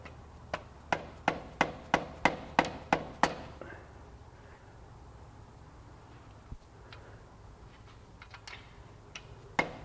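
A socket is hammered against a grease seal on a 2004 Mazda RX8 during transmission and clutch work, giving about nine sharp, evenly spaced metallic blows close by, followed by quiet with a few faint taps.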